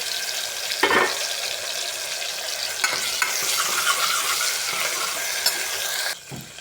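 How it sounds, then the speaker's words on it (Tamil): Onion sautéing with ginger garlic paste sizzles continuously and close, with stirring scrapes and a few sharp clicks from the pan, no talk. "வெங்காயம் நல்லா வதங்கட்டும். இஞ்சி பூண்டு பேஸ்ட் போட்டுக்கோங்க."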